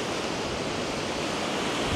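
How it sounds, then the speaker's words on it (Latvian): Strong wind and breaking sea waves at the seaside make a loud, continuous rushing roar of surf and gusts, with no break in the wash. "Kā redzams, diezgan liels vējš un viļņi."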